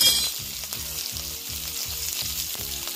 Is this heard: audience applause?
no